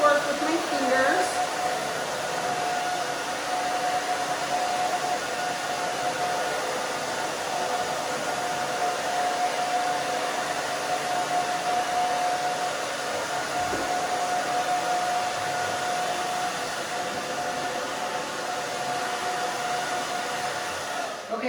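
A hair dryer blow-drying a pixie cut, a loud, steady whooshing roar with a faint tonal whine that runs unbroken throughout, close up.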